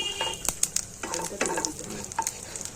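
Spices and asafoetida hit hot oil for a tempering, a steady close sizzle broken by crisp spits and light stirring scrapes, with no voices.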